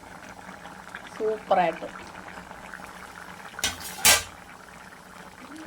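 Fish curry bubbles in a pot on a gas stove, a soft simmering hiss under a woman's speech, punctuated by a few clinks of a metal spoon against the pan.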